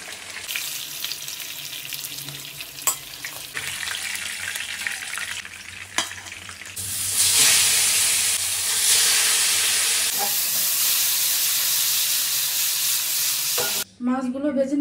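Rupchanda fish frying in oil in a pan gives a loud, continuous sizzle with occasional stirring clinks; the sizzle surges louder midway through, then cuts off abruptly near the end.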